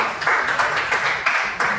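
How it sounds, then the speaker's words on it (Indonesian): A classroom of students claps for a classmate in short, rhythmic bursts, about five sharp pulses of group clapping at a moderate level with no talking. "Tepuk tangan untuk Devandra."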